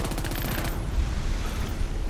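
Gunfire in the Crackdown 3 video game: a rapid, evenly spaced automatic burst stops abruptly and leaves a low rumbling boom that fades off.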